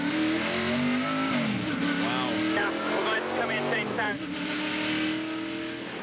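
NASCAR Winston Cup race cars at Richmond International in 1998, rolling under caution. Their engines drone loudly and steadily throughout, with pitch rising and falling as the cars pass, while a commentator talks over them.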